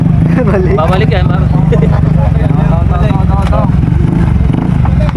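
Motorcycles in a slow drag race at a crossmeet in San Pablo City, engines droning loudly and steadily throughout beneath excited commentary and crowd voices.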